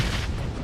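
A grenade blows up in a video game as a short, dense, booming blast that fills the whole brief moment.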